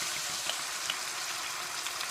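Beef mince browning in a pan with a splash of red wine, giving a steady, close hiss of sizzling that carries on without a break and has no voices.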